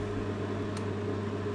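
A microwave oven heating pork wrapped in tissue paper hums steadily and low, a constant close drone with faint airy noise and one tiny tick.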